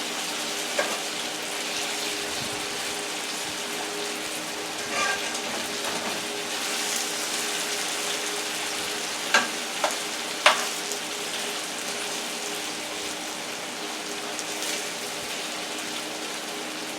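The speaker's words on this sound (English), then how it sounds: "They've been cooking for about 4 minutes. I'm going to turn them over." Home fries sizzle steadily in a pan while they are turned over, with a constant crackling hiss and occasional scraping clinks from the utensil, close up and without talk.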